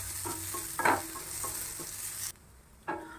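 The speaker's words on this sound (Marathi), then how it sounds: "यामध्ये कांदा घालायचा आणि कांदा छान असा परतून घ्यायचा" Onion sautés in a new iron kadhai with a soft sizzle, broken by several scraping stirs and a brief pause before one more stir.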